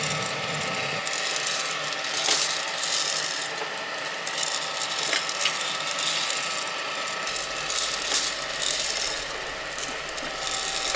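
A Gene Cafe home coffee roaster runs steadily, its paddles churning beans in a continuous rattling, ratchet-like clatter over a constant mechanical hum, close and alone.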